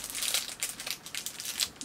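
Plastic packaging around a small panda keychain crinkles and rustles close by as it is cut open with scissors, soft, busy crackling in uneven bursts with no talk.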